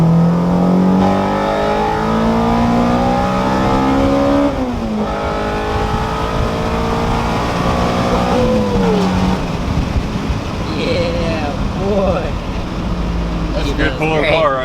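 A Honda Type-R engine revving hard on a dyno, its tone climbing in repeated rising sweeps with a sharp change in pitch as VTEC engages, then dropping off, with people talking over it.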